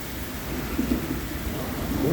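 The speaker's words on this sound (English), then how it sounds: "It's a serious storm." A serious thunderstorm roars with dense, steady rain and low rolling thunder, rumbling a little louder midway and toward the end, with no voices.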